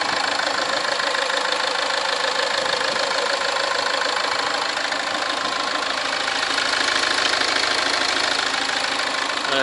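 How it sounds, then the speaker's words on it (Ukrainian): A Land Rover Freelander 2 engine, warmed up, idles steadily, a dense mechanical hum with a faint knocking texture running unchanged throughout, close and fairly loud. "Слухайте на радість роботу цього моторчика."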